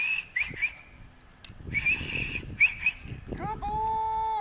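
A training whistle blown for a dog during a basic obedience session, sounding as short sharp bursts early on and then a long steady tone near the end, with dog whimpers and outdoor noise around it.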